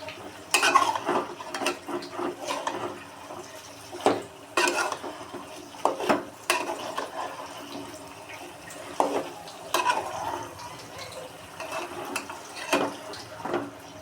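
Eggplant curry being stirred in a pan, with a steady run of scraping and clinking spoon strokes against the metal, close and moderately loud, alone with no voices.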